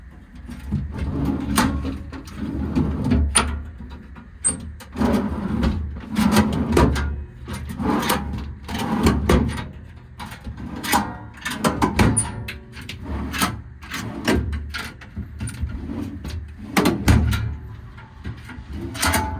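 Metal ag body drawers in the compartments of a 14-foot STI service body on a 2007 Ford F750 slide open and shut, giving a steady series of loud clunks and rattles spread across the stretch.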